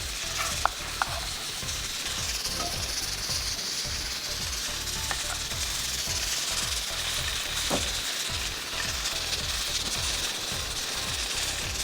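Garlic frying in olive oil in a pan, a steady close sizzle with a fast crackling, ticking texture running throughout and a few faint clicks, no voices.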